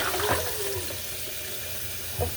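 Water running steadily from a kitchen sink tap while items are rinsed, a continuous soft hiss with faint splashes, quiet and close.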